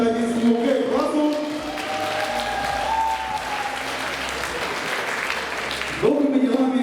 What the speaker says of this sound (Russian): Мы еще раз подарим бурные аплодисменты 11-му Г-классу.